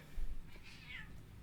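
A cat in a video game gives one brief meow, heard alone against a steady background of game ambience.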